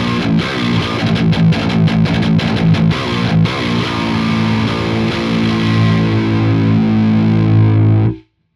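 A heavily distorted electric guitar, recorded through a DI box with D'Addario strings, plays loud chugging chords that give way to a long sustained ringing chord before cutting off abruptly.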